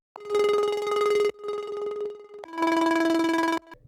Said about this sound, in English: this filter is what makes the plucky sound.